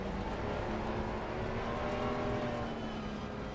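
Race cars including a Mustang, an Aston and a BMW on the grid at a race start at the Red Bull Ring, their engines a steady, droning roar with a constant hum, heard from a distance.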